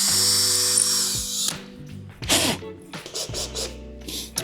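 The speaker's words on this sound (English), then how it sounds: "you're pre-drilling as you do this" A power drill bores pilot holes into wooden sauna staves in two bursts: a long steady whine that cuts off sharply, then a pause of shuffling and handling, then a second run. Loud and close, with no talking.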